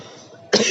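A single short cough bursts out close to the microphone after a quiet moment, loud and abrupt.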